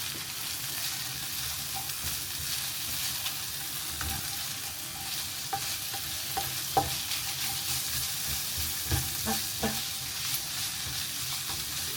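Garlic is stir-fried in a pan over medium-low heat while making seafood paella: an even, close sizzle runs throughout, punctuated by light scraping taps as it is tossed, with no voices.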